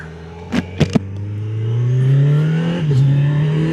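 A motorcycle engine revs up with a rising, sustained throttle whine that swells in pitch and loudness, with a few sharp clicks at the start and no talking.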